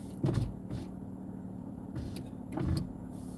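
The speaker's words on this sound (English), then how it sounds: "Let me roll down the windows just in case it's hot." Car power windows roll down in a parked car, a steady low motor whir running for a few seconds between soft bumps and thuds, with no one talking.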